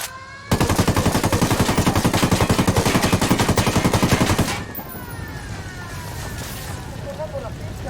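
Steady automatic gunfire in Ghost Recon Wildlands, a loud, close, evenly paced burst lasting about four seconds, then fading into quieter ambient game sound with faint voices.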